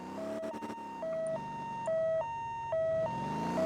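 An ambulance siren in the MotorTown driving game wails in a steady alternating two-tone pattern, loud and close, with a brief burst of rattling at the start.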